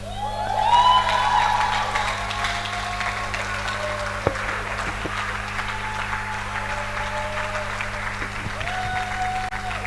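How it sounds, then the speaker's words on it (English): Audience applause at a church conference session fills the space steadily, a dense wash of clapping from a large crowd that swells early and then holds at an even level, with no voices. "Please, a round of applause for Reverend Ray for an amazing session"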